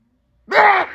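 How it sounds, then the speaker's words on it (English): A single sudden, forceful sneeze bursts out after a moment of silence, close and loud, trailing off briefly. "give me a second. I had to sneeze."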